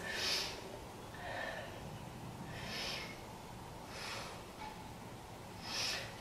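Slow, deep yoga breathing held in a pose, about five soft airy breaths spaced roughly a second or more apart, close and gentle, with no talking.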